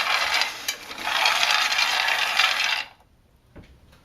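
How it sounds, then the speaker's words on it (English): Raw cocoa beans roast in a pan, giving a dense crackling, rattling clatter that runs for a few seconds, then stops sharply, leaving near silence broken by one small pop. "some of the beans will pop, and you'll hear it. Sometimes it's pretty loud."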